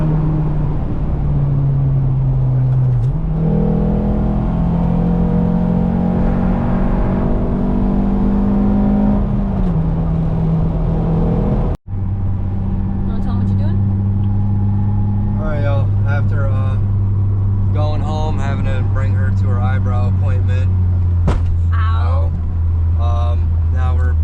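A hoodless Acura TSX with a raw K-series engine and a check engine light for fault P1157 drives along, its engine droning loudly with pitch rising through the gears, then settling into a steady cruising hum.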